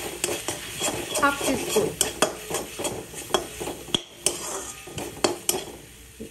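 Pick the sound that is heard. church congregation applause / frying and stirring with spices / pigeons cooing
frying and stirring with spices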